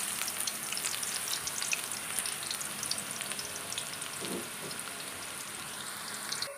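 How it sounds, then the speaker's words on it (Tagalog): Onion and garlic sauté in hot oil with a dense, continuous sizzle and fine crackling, steady and close throughout, with a few faint scrapes of stirring and no voices. "Una kong igigisa ay onion. Yan. Isunod na rin natin ng garlic."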